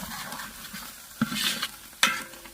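Black masala frying in oil for kandoori goat mutton, with a low sizzle under stirring, soft scrapes and two distinct ladle clinks against the pot.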